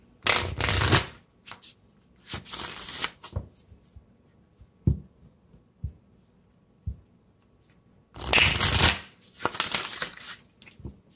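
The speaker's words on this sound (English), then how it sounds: "I'm gonna give this" Tarot cards are shuffled in two quick riffling bursts, separated by soft taps and light clicks as the deck is handled.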